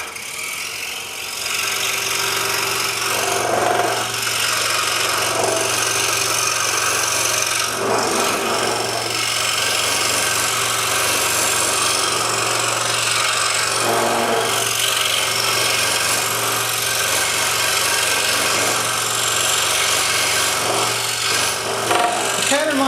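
A scroll saw cuts a wooden perfume tray pattern in a steady, continuous rasping buzz that holds up close with brief dips and a low motor hum beneath, no talking.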